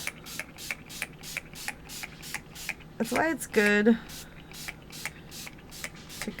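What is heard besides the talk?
aerosol spray can spraying paper cutouts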